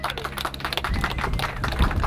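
A crowd claps and applauds for a motocross racer at an award ceremony, with steady, dense clapping throughout and a faint murmur of people in the background.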